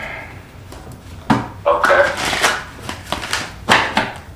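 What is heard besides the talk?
shuffling tarot cards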